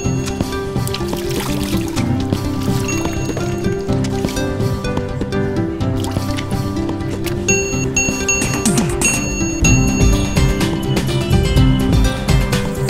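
Small bells ring repeatedly at a street food stall in bright, metallic chimes over a busy bed of splashing hand-washing water and background bustle.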